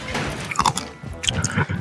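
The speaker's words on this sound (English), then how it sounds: "I'm just gonna chew." Wet, close-up chewing and smacking into an ASMR microphone, a quick sequence of loud squishy bites and mouth sounds.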